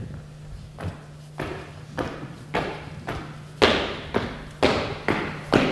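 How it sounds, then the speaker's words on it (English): Running feet driving hard into the ground: a series of heavy, evenly spaced thuds close by, growing louder over a low steady hum, with no talking. "Driving their feet into the ground."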